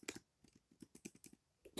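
Soft, scattered keystrokes on a computer keyboard during a Roblox game on PC, a dozen or so quiet clicks in an uneven rhythm, heard alone.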